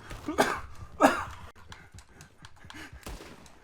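Horse in the Red Dead Online video game lets out two loud, close snorting bursts early on, followed by softer scattered clatter and movement noises.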